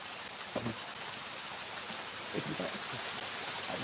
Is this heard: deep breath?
no